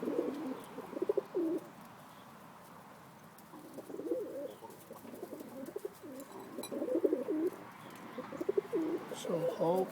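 Roller pigeons coo in soft, throaty repeated phrases, close by, with pauses between bouts and occasional faint chirps and rustles in the background.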